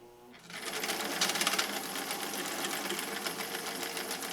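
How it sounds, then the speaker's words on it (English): A domestic sewing machine stitching a final seam, its fast steady mechanical whirr starting after a brief pause and running continuously, close and fairly loud with no talk over it. "So let's do this final stitch"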